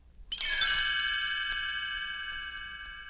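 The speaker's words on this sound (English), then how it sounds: "You will know it is time to turn the page when you hear the chimes ring like this." A bright chime rings once as a page-turn cue in a 1984 Gremlins read-along audiobook, striking cleanly out of silence and then ringing on with a long, slowly fading shimmer.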